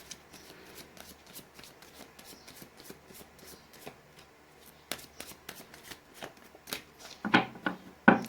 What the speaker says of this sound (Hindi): गाइज मैंने कर लिया है कार्ड्स की सफलिंग।